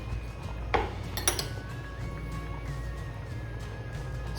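Real ghee is stirred into rice in a cooking pot for mutton pulao, with a couple of brief metallic clinks of a spoon against the pot over a steady low background hum.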